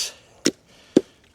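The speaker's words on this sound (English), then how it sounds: "Just sharpening some sticks" A knife strikes a wooden stick twice while it is sharpened for bushcraft cooking, two crisp, separate chopping knocks about half a second apart, close and clear against near silence.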